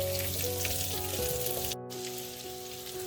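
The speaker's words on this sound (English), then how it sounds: "Put the pumpkins inside the pan." Pumpkin pieces frying in leftover bacon oil in a pan, a loud, continuous crackling sizzle with a steady hiss and small pops, heard close up and alone.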